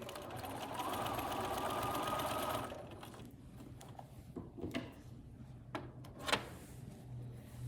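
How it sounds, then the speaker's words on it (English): A sewing machine stitches across a small fabric gusset on a bunny bag, running loud and steady for a couple of seconds, then stopping, leaving a few soft clicks and handling sounds. "you're just going to sew across this little gusset"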